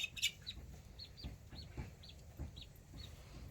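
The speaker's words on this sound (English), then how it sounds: "There's my rooster Batman." Soft clucking and clicking calls from a rooster, repeated at a steady pace with brief high chirps, fairly quiet in a calm outdoor setting.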